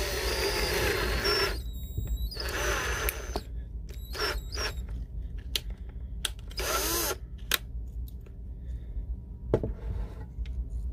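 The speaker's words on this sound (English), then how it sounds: "Now, when you're drilling this out, do not get in a hurry." Power drill boring out a Transformers Beast Wars Transmetal Rattrap toy, whining in several short bursts with squealing bit contact and pauses between, close and fairly loud.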